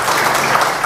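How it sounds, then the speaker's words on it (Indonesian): A church congregation at a revival service in a hotel-based church hall cheers and applauds together, a steady dense wash of clapping and shouting that holds at an even loudness throughout. "Berikan sorak-sorai."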